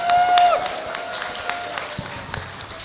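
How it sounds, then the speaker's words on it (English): Scattered clapping from an audience honours award winners at a robot combat event, light and uneven claps over a brief tonal sound at the start. "Can we have another round of applause for all our award winners?"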